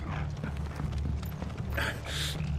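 Rhythmic hoofbeats clip-clop over a steady background with a faint voice in the video game Final Fantasy 16, the trotting continuing throughout at moderate volume.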